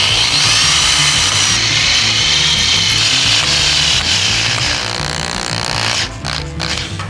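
A power tool whines loud and close as screws are driven at an angle into the ends of a DIY wooden handrail, with one continuous run that eases slightly and ends in a few short bursts.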